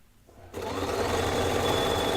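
A sewing machine back-tacks the seam of a holiday table runner. It begins after a short quiet moment and then runs as a steady, close, rapid mechanical whir.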